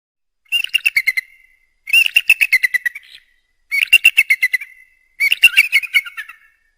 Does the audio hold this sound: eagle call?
yes